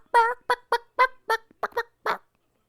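A person imitates a clucking chicken with a string of short, loud, choppy vocal bursts in an uneven rhythm, close to the listener, with no other talk.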